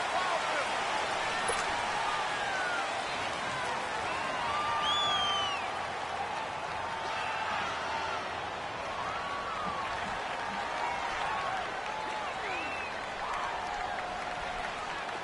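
Stadium crowd in a football video game, a steady dense roar of cheering and whistles that stays loud and continuous throughout, with a commentator's voice heard faintly under it.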